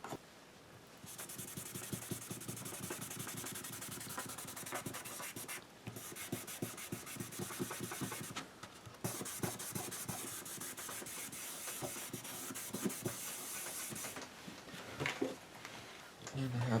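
Steady rubbing and scraping as an old spoon burnishes a taped-down transferred image, a dense continuous friction sound close up with a few brief pauses.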